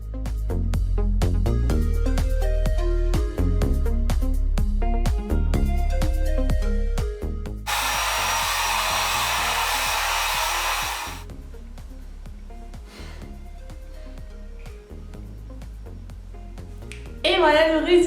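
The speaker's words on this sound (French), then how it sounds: "Donc du coup je vais venir sécher mes cheveux." A hair dryer blows on long curly hair with a steady, loud hiss for a few seconds, then cuts off. A person talks before and after it amid light handling noises.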